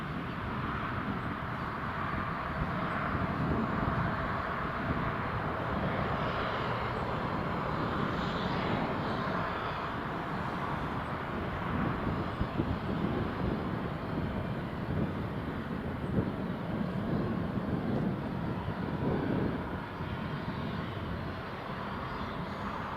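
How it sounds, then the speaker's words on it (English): An airliner's engines run steadily as the plane taxis at Newcastle Airport, a continuous broad roar heard from some distance, unchanging in level, with no talk over it. "engine start complete, and that's him clear to taxi"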